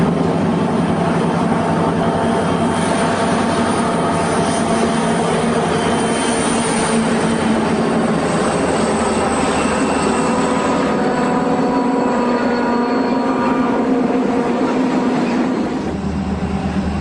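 An eastbound Southern Pacific freight train led by EMD diesel locomotives rolls out of Tunnel 18 on the Cascade Line in 1996, a loud, steady engine drone with a broad rumble that holds for the whole stretch, with no talking.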